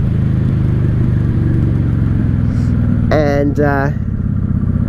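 1995 Honda Shadow VLX 600 VT600CD motorcycle riding, a steady loud low engine drone heard close up throughout, with someone briefly speaking over it near the end.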